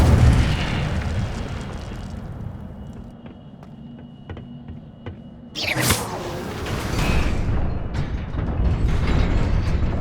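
A fire spell cast in the video game Hogwarts Legacy bursts out midway as a sudden loud whooshing blast, then a roaring crackle that keeps going under the game's ambient rumble and mechanical clicks.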